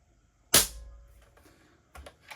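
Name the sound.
Airmaks Caiman X air rifle shot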